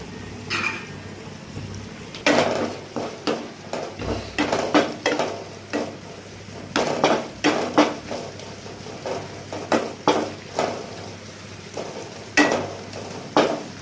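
Tomatoes sautéing in a pan for chicken soup, a spoon scraping and stirring in repeated uneven strokes over a soft, steady sizzle, close by with no talking.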